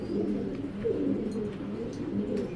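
Several Giribaj pigeons coo steadily nearby, their low, throaty calls overlapping into a continuous murmur with no talking.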